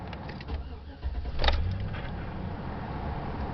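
A GM truck engine cranks and restarts after a brief shutdown: a quiet idle, a sharp starter burst, then a steady running rumble, with someone talking faintly in the background.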